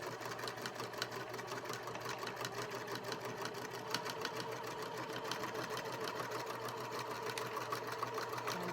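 A sewing machine stitches a fabric basket in a steady, continuous mechanical whir with fine rapid ticking, running without pause at a fairly low level.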